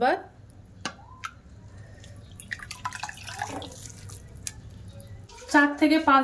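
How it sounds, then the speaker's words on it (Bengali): Grated potatoes being washed in clean water in a kitchen, with soft splashing, dripping and stirring sounds under a steady background hiss, then a voice speaking at the end. "আলুটা পরিষ্কার জল দিয়ে আমি ধুয়ে নেব"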